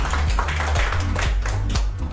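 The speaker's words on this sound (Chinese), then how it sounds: "给这几个人掌声来" A few people clap briefly in a training session, a short burst of quick, close claps that rise and fall over about two seconds.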